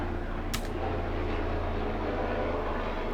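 Through an open window on a hot day, an airplane drones overhead as a steady, low, even rumble that fills the room, with one brief sharp click near the start.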